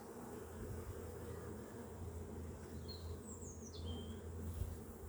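A faint, steady buzz of honeybees at an open hive hums under a low background drone, with a brief high bird chirp partway through.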